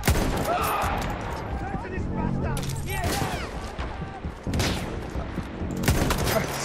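Rapid gunfire from a Battlefield 1 battle, with bursts of shots fired toward the player's position. The shooting is dense and fairly loud, with repeated volleys spread across the whole moment.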